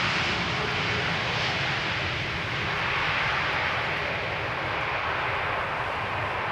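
A Transavia Airbus A321neo arriving at Amsterdam Schiphol passes close by with a loud, continuous jet rush that fills the whole few seconds without any speech.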